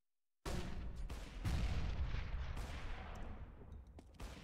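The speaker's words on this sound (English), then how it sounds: "Throwing flashbang." In Counter-Strike: Global Offensive, a flashbang grenade goes off with a sudden sharp burst after silence, followed by a ringing, decaying wash of noise with a few faint clicks.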